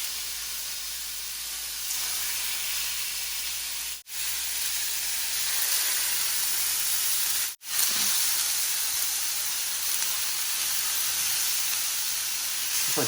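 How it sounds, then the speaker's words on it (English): Pork pieces searing in a pot over medium-high heat with a little olive oil give a loud, steady sizzling hiss that fills the whole stretch, broken by two brief dropouts. "I'm going to just sear these off individually"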